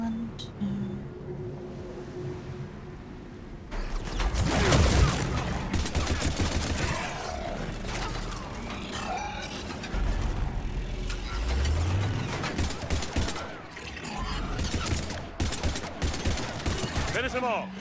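Rapid gunfire in a Mass Effect 3 battle on Earth, rattling automatic bursts and mechanical clatter that come and go over the scene, mixed with game dialogue.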